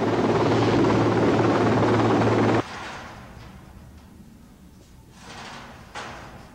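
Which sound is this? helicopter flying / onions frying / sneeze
helicopter flying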